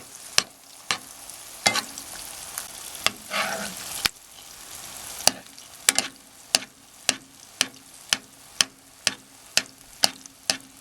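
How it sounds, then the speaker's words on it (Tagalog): Eggs frying in hot cooking oil as oil is spooned over them, a steady close sizzle punctuated by regular sharp ticks and taps of a utensil against the pan. "sa pagpiprito ng itlog, ng fried eggs, hindi natin kailangang baligtarin. Sabuyan lang natin ng mainit na cooking oil"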